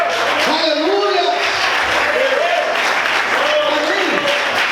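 A church congregation applauds through a continuous wash of clapping while a voice speaks and exclaims over it, sustained and loud throughout.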